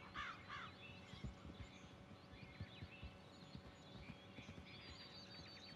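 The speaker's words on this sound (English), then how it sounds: "I hear my horse." A horse approaching in Red Dead Redemption 2, quiet rhythmic hoof clops on the ground with crows cawing nearby in a faint outdoor ambience.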